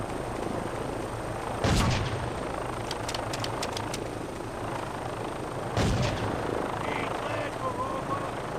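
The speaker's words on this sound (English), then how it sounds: "this fucking chopper had me pinned down tight." Helicopter rotor drone and engine noise in a video game, with two loud bursts of gunfire or explosions and a rapid string of sharp shots between them, under game audio.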